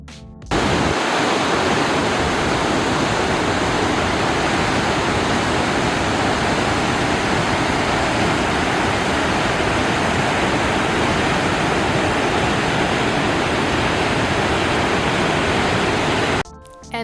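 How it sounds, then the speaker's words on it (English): Waterfall on the Fond du Lac River in Northern Saskatchewan, at the upper part of the falls, roars as a loud, dense, unbroken rush of water from start to finish. "this would be the upper half of the falls, where it comes from the Fond du Lac River and starts flowing down"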